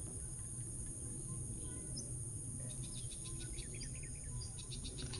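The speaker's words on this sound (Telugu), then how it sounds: "పక్షులు కిచకిచమని సౌండ్స్ అవి కూడా చాలా బాగుంది యాక్చువల్లీ" Birds chirp faintly at sunrise in a forest, with morning mist lifting off the ground: a few short, high calls scattered through a steady low rumble and insect hum.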